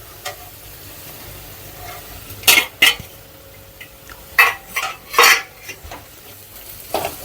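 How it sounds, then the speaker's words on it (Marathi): A spoon scrapes and clinks against a pan as spices are stirred into sautéed onion and tomato, several sharp strokes over a low sizzle, close and clear, with no talking. "आता आपण टाकणार आहोत सगळे स्पाइसेस आपण घेतलेत ते मिक्स करणार आहोत"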